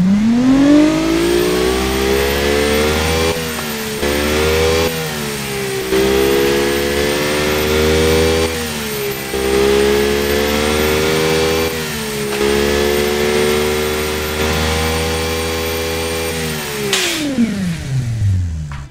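A turbocharged 1.7 liter V6 in a video game revs loud and steady, its pitch climbing and dropping in repeated sweeps before a final falling rev, with no talk over it.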